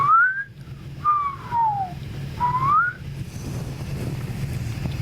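A person whistles three short sliding notes, the first rising, the second falling, the third rising again, close and clear over light wind noise, then a stretch of faint background.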